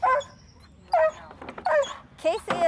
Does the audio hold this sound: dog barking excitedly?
yes